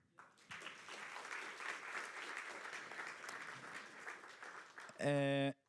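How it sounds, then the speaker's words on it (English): An audience at an EAGxBerlin conference talk breaks into a sustained round of applause, a dense even wash of clapping, before a loud tonal electronic sound cuts in at the end. "I think that's worth a round of applause."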